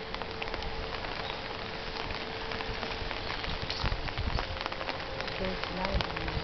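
Steady rain falls at a Japanese coastal cape in Choshi, a dense, continuous patter on surfaces with a faint hum and brief low knocks near the end.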